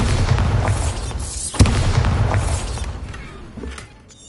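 Booming Bombarda spell blasts in a Harry Potter video game, a loud rumbling explosion with a sharp crack in the middle, trailing off beneath ongoing game ambience.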